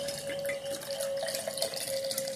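Vodka poured from a bottle in a steady, close trickle with a slight gurgle, running continuously for a couple of seconds.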